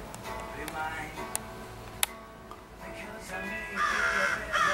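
A crow caws a few times outside a house, fairly distant and faint against steady background hiss. A single sharp tick stands out partway through, and a louder harsh call comes near the end.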